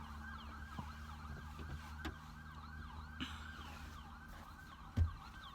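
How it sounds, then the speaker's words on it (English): An ambulance siren wails faintly in the distance over a steady low rumble of traffic, with a brief louder thump near the end. "Try to let the ambulance go by."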